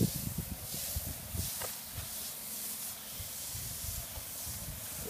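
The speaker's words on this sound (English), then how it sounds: "we spray it, as I'll show you now. Now it's not a high pressure, it's only a soft pressure." Soft-pressure sprayer misting cleaning chemical onto an exterior wall, a steady close hiss with faint rustle running throughout.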